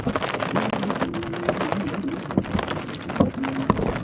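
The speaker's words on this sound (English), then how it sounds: "You can hear the rain bouncing off the umbrella there in your ears now." Steady rain patters and drums on an open umbrella outdoors at a Division 3 sports match, a dense, close hiss of drops with occasional louder taps throughout.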